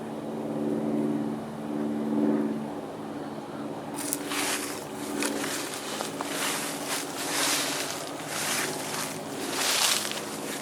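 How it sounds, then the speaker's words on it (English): A small single-engine Cessna airplane drones somewhere overhead in a steady, low, distant hum, with crunching footsteps on a trail joining partway through. "I think I hear a little single-engine Cessna up there somewhere."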